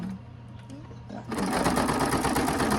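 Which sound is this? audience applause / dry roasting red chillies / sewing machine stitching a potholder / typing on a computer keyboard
sewing machine stitching a potholder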